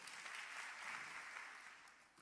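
Congregation applauding during a church service, a soft, even wash of many hands clapping that sounds distant and faint and fades slightly toward the end.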